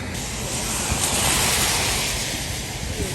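Constant broadband rushing of the Connecticut River heard while crossing at the Vermont–New Hampshire border, mixed with wind, even and fairly loud throughout.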